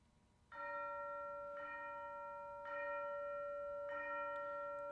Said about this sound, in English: we have the very symbolically important sound introduced of the chime